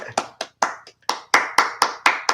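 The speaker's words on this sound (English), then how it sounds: "I like to give my babies claps." A run of about ten sharp hand claps, close and fairly loud, in an uneven but steady rhythm with no talking.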